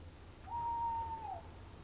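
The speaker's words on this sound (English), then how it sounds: "It's only that owl again." An owl gives a single drawn-out, steady hoot lasting under a second, fairly faint over a low background hiss at night.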